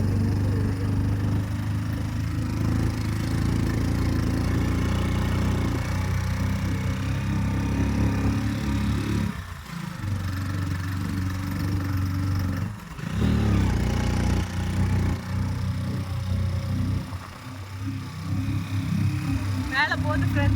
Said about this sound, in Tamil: மேலே போகுது ஃப்ரெண்ட்ஸ் வண்டி, பாருங்க.